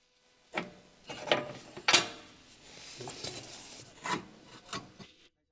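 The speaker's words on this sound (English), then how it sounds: "After loosening the bolt, we screw it out by hand directly." A bolt is turned out by hand from the rear camber arm of a Honda Civic, giving a series of short, close metallic rasps and scrapes in uneven bursts against a quiet background, with no talk.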